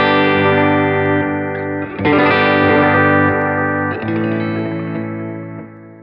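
An A chord strummed on electric guitar through a Line 6 Helix poly pitch effect, ringing as a thick, shimmering, pitch-shifted wash that is restruck twice and sustains loudly before slowly fading.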